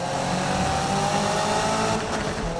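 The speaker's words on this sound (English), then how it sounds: "Now it's still hitting off the rev limiter like it used to do." In-game Subaru BRZ with a 992 hp build in Need for Speed 2015, revving hard and bouncing off the rev limiter in a loud, buzzing, continuous engine drone.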